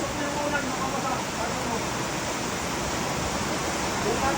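Heavy rain pours down steadily at a farm, a dense, continuous hiss filling the whole clip with no breaks.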